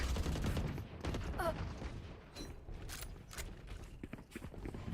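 Rapid bursts of gunfire from a Valorant esports match, close and loud, over a busy layer of in-game clatter, footsteps and mechanical clicks.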